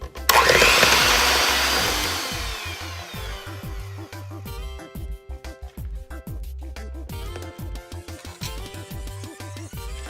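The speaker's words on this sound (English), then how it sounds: "I am just going to mix this with my hand mixer until it's nice and smooth" A hand mixer beats cream cheese with powdered sugar, its motor whirring loud at first and then settling into a steady drone with rhythmic dips as the beaters work the mixture, with no voices over it.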